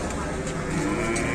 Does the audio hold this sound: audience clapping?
no